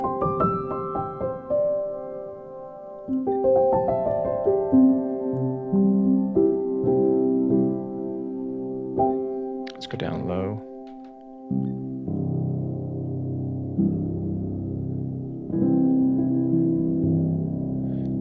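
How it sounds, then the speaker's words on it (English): A LABS soft felt piano virtual instrument plays gentle, muted notes and low chords in a slow ambient passage, close and quiet, with a brief spoken aside partway through. "It's a felt piano. It's very soft."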